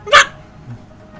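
A person's voice imitates a screechy dog bark with a single short, sharp burst, followed by quiet background.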